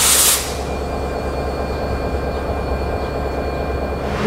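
Locomotive of the Chitra Express train, a broad steady drone with a low rumble holding evenly throughout, close and loud, after a short brighter burst of noise at the very start.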